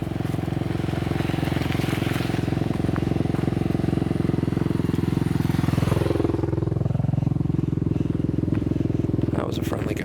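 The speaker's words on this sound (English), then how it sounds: "I think I see a motorized vehicle, motorcycle," Motorcycle rumbling along a former road now used as a hiking trail, its engine drone steady and fairly loud throughout, rising and falling in pitch as it passes close by.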